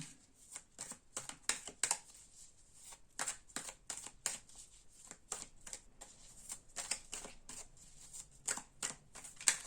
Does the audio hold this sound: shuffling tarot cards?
yes